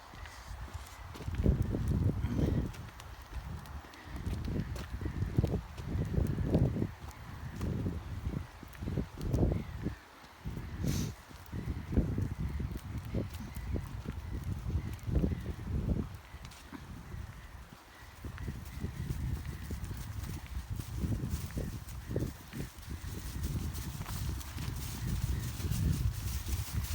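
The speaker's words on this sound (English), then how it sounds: "That noise is being made by Cosmo leaving his scent as he walks through all the leaves at the side of the path" A dog walks through dry leaves beside a woodland path, making continuous low rustling and crunching steps close by, fairly faint and steady throughout with no talking.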